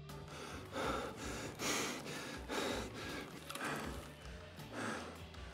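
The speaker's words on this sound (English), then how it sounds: "Josh has the least obnoxious breathing and hurt noises than the other USEC operators" Escape from Tarkov USEC operator character breathing hard with pained grunts: a steady series of heavy, rhythmic breaths and gasps, close and fairly loud, with no talking.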